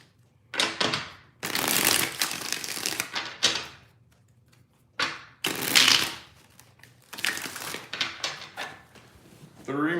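Bursts of crisp tarot card shuffling in several separate runs, close and fairly loud, with short quiet gaps between them.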